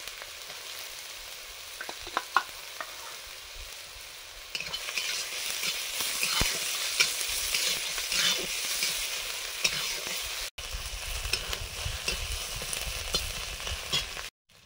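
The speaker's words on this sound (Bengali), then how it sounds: "আলুটা মশলা দিয়ে কষে নেব।" Boiled potatoes with onion, ginger, garlic and spices sautéing in mustard oil in a kadai, a steady close sizzle with scattered stirring scrapes that grows louder partway through.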